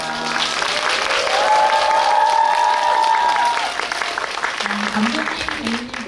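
Sustained audience applause fills a cinema auditorium at the end of a post-screening Q&A at CGV Yongsan, a dense steady clatter of many hands lasting several seconds, with a few faint voices underneath near the end.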